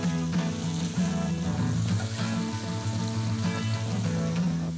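Cod and pollock fillets sizzle in a pan for a fisherman's zarzuela, a steady, fairly loud frying hiss with occasional stirring clicks.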